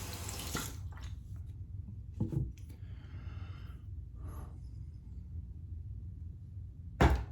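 Razor rinsed under running tap water while shaving: faint, intermittent splashes and short bursts of flowing water at close range, with quiet gaps between them.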